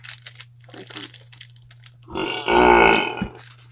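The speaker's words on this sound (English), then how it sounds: "when you know you're going to burp like that, walk away" A person lets out a long, loud, close burp that rises and rumbles for over a second, after a moment of quiet whispered talk and rustling.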